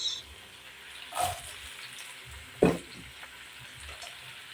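Onions frying in a pan for spaghetti gisado, a quiet low sizzle broken by two louder stirring clatters.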